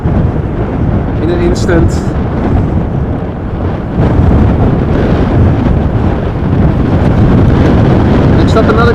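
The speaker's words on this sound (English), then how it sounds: "Wind pushes the camera up or down" Strong wind buffets and roars across a camera microphone during a storm at Amsterdam Schiphol Airport, a loud constant rumble with a few brief words spoken.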